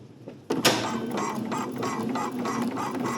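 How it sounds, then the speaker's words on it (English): A sewing machine top stitches around a dress neckline, running steadily at close range with a rapid mechanical ratcheting rhythm after a brief start. "I'm just going to top stitch around. I'm starting in the back."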